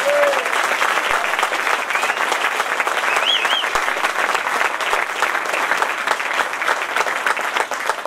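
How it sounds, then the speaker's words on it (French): Thunderous, continuous applause from party activists at a political gathering, close and even, with a brief whistle or voice cutting through the dense clapping. "je demande un tonnerre d'applaudissements pour Monsieur González"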